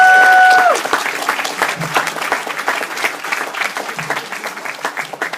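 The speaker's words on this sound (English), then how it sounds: "So let's hear it for Shamin" A theatre audience applauds, with dense clapping that follows a brief tone at the start and keeps up steadily at moderate loudness to the end.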